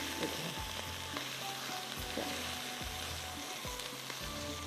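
Hand-pounded mince frying in a pan gives a dense, continuous close sizzle, broken at regular intervals by low thuds and scrapes as the spoon turns the meat.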